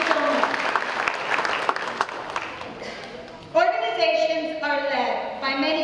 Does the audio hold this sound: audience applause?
yes